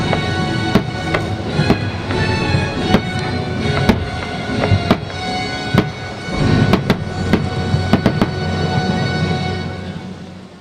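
Fireworks burst during the nighttime musical fountain show in the illuminated gardens at the Palace of Versailles, sharp cracks and pops going off irregularly, sometimes in quick clusters, over a steady outdoor rumble.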